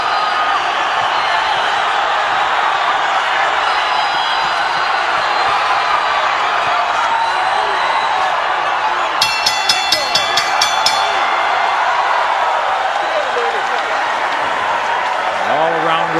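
Boxing crowd in an arena cheering and applauding after a fight, a dense steady roar of many voices and clapping throughout, with a brief burst of sharp clicks partway through.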